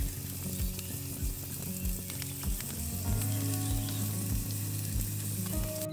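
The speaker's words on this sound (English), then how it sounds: "Listen to that sizzle." Ribeye steak sizzling over an open campfire, a steady close frying hiss with soft crackles and a regular low thumping underneath, no voices.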